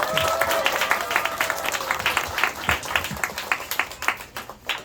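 Church congregation applauding its officers, a burst of lively clapping that starts full and gradually thins and softens, with scattered voices murmuring underneath.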